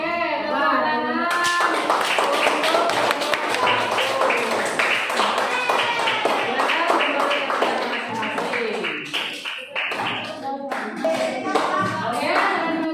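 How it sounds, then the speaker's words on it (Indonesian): A classroom of students breaks into lively applause, rapid overlapping claps forming a steady clatter for several seconds, with voices talking and calling out over and between the clapping. "Oke, tepuk tangan."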